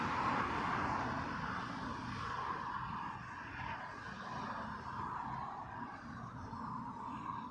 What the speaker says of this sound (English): Next arrival then, Virgin Flight 12, in from Boston. This one an A330-300.